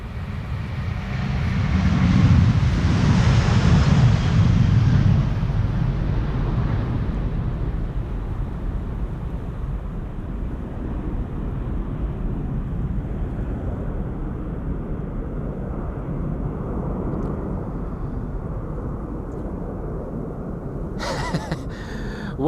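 A Delta Airlines jet departs Amsterdam Schiphol Airport on a flight to Minneapolis, its engine roar swelling loudly early on, then settling into a sustained rumbling drone that fades slowly with distance.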